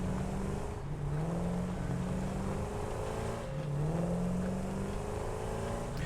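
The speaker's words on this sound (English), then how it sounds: "Yeah, the repetitive buggy noises are not great." A buggy's engine in the video game Satisfactory revs in repeating cycles, climbing in pitch, dropping back and climbing again at a steady moderate level with no talk.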